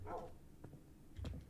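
Dogs in the Minecraft video game giving a few short, muffled barks and yips, faint and low in level, over about a second and a half with no talking.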